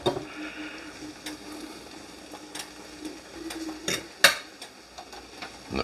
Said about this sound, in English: the pan's plenty hot, so I'll let the pan finish cooking it